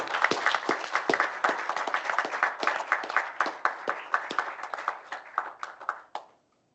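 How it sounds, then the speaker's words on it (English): A small audience at a city council meeting awards session gives a round of applause: several people clapping at close range in a rapid, uneven patter that thins and stops abruptly. "Let's have a final round of applause for everyone."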